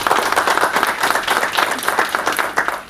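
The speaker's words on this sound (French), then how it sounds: "On peut l'applaudir, oui, on peut applaudir." An audience at a logistics congress opening session gives dense, steady applause, a thick wash of clapping with no talk over it throughout.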